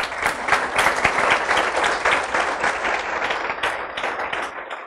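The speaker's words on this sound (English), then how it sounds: "You can clap for yourself." An audience at a talk claps steadily for several seconds, a dense wash of applause that stays loud throughout and thins slightly toward the end.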